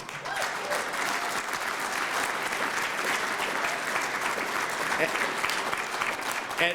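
Applause from an audience at a broadcasting hall of fame awards show, a dense, sustained wash of many hands clapping at an even level throughout, with a few voices mixed in beneath.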